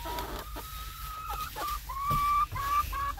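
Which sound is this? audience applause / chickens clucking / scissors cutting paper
chickens clucking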